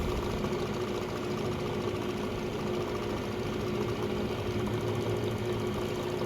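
A vintage Van Norman 204 brake lathe running at full speed, a steady mechanical drone with a fast rhythmic hum and whirring gear noise, constant at moderate volume throughout.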